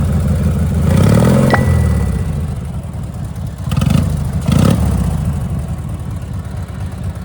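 A vehicle engine started and revved by remote throttle, cranking to life then rising in a sharp rev and falling back, followed by two more quick blips over a steady idle, close and loud with no talk.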